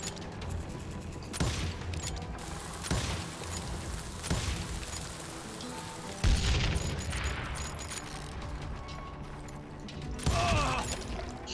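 Gunfire from the Western shooter game Call of Juarez Gunslinger: about five sharp, booming shots spaced a few seconds apart, each ringing out over a constant background of game ambience and music.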